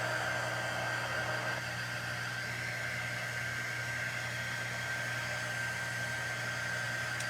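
A hair dryer blows over chalk paste on a patriotic sign, giving a steady, unbroken whooshing hum with a faint whine, close by and constant, with no talking.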